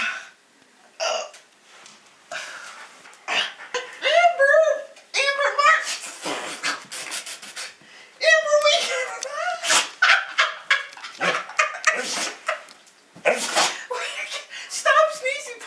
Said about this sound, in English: Stop sneezing, puppy, please!